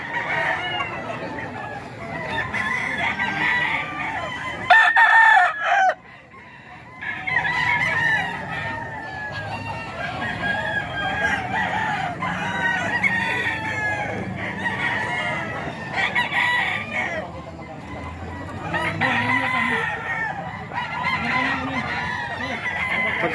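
Several roosters and hens at a gamefowl sale in Bocaue crow and cluck repeatedly, overlapping calls near and far with a brief quieter gap, and low voices in the background.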